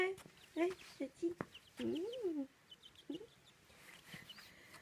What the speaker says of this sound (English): This chicken will follow me around.